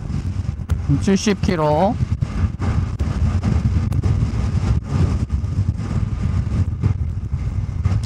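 Honda Hunter Cub motorcycle riding at about 70 km/h without a windscreen, steady roaring wind buffeting and engine drone throughout, with a person speaking briefly over it.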